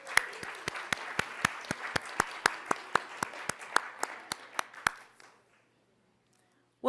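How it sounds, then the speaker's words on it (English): An audience applauds scientists at an event on youth and education in the Pacific coastal temperate rainforest, with sharp, loud individual claps standing out over a steady wash of clapping that lasts about five seconds and then stops into silence. "How about a nice round of applause for our scientists in the back there?"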